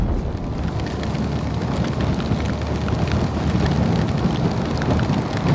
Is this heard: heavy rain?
yes